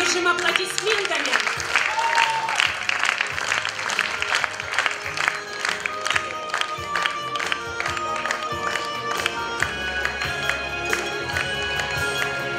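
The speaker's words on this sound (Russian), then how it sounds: "Поддержим аплодисментами." An audience claps in applause at the closing ceremony of a youth arts festival and competition, a dense, sustained patter of many hands, with a voice speaking over it.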